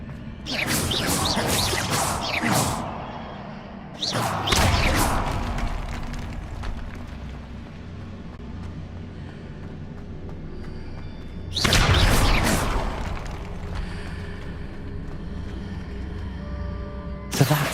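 Fiery spell bursts from the Incendio charm in Hogwarts Legacy, three loud broadband whooshing blasts, each lasting one to two seconds, separated by a steady low ambient rumble.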